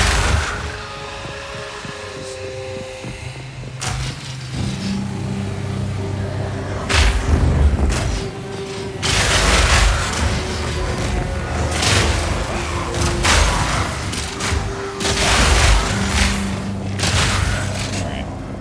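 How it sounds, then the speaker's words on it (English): Repeated explosions from the action game Path of Exile 2 boom in clustered bursts, loud and close over a continuous game soundtrack, while someone talks over the gameplay. "It's certainly more satisfying. Watching all the explosions go off."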